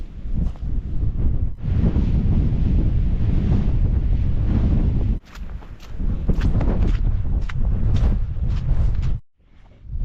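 Loud, roaring wind buffets the microphone almost continuously on an exposed snowy outdoor spot, with a brief lull midway and a sudden drop near the end.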